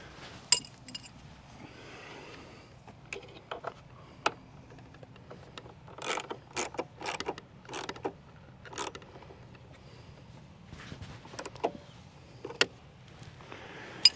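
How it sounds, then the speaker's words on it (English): Hardware being snugged down on a Bodyguard cowl light mount on a 2021 Ford Bronco, heard as scattered light metallic clinks and ratcheting clicks, some in quick clusters, against a quiet background. "Tighten them down till they're snug."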